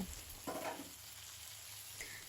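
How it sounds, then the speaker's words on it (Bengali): Dried chapa fish frying in oil left from onions and garlic, a soft continuous sizzle with a brief stir near the start, faint and without talk. "এখন ওই তেলের মধ্যে হলে চাপা মাছের শুটকিটা দিয়ে দিব, দিয়ে ভালো করে ভেজে নেব"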